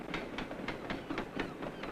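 Rhythmic clickety-clack of train wheels over rail joints as a train crosses a railway bridge, a steady rumble with evenly spaced metallic beats, fairly loud and continuous.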